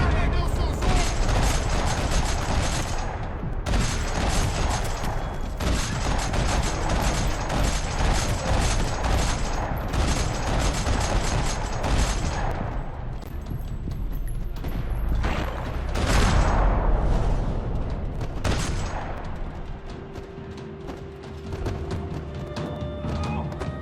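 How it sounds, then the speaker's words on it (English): Gunfire rattles through a parking lot in the video game Max Payne 3, with dense bursts of shots, crashes and mechanical clatter over a loud, sustained mix of game score and ambience. "Another parking lot rattling with gunfire."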